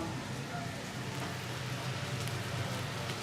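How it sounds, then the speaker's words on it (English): Steady broadband crackling and hissing of Hiroshima okonomiyaki sizzling on a hot griddle, continuous and fairly close, with faint background voices. "Look at that. It's just sizzling."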